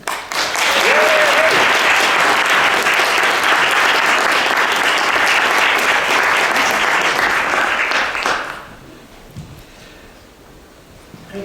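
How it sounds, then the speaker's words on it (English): A lecture audience gives a loud, sustained round of clapping for about eight seconds to welcome a speaker, then the applause cuts away to quiet room tone. "I invite you to join me in welcoming Dr. Daryl Van Tongeren."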